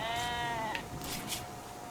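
A sheep in the video game RimWorld gives a single clear, wavering bleat at the start, followed by quiet background noise.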